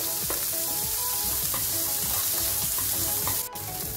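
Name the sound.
sautéing ragi soup mixture with turmeric on low flame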